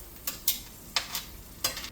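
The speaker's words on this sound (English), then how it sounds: "And then just let your jalapeno finish frying." A jalapeno frying in a pan gives faint, close sizzling with a few brief crackling bursts spaced through a quiet background.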